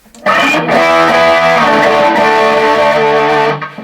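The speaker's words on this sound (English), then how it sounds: "this is the Berzerker Overdrive" An electric guitar chord rings out through a Dunlop Berzerker Overdrive pedal, thick and saturated, sustaining loudly for a few seconds before cutting off.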